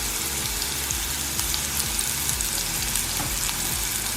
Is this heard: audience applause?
no